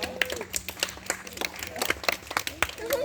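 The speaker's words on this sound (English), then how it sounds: "And how about a round of applause for Bree up there as well?" Spectators at a Stand Rock dog show in Wisconsin Dells clap in a round of applause: a steady patter of distinct, fairly close hand claps with voices mixed in throughout.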